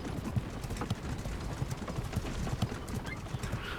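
Steady hoofbeat clip-clop of a horse in the video game Naraka: Bladepoint, with regular trotting thuds and a faint whinny over a busy game soundscape.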